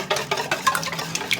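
Egg yolks being whisked quickly into brownie batter in a bowl, a soft, steady scraping and stirring with rhythmic clinks of the whisk against the bowl, close and fairly quiet.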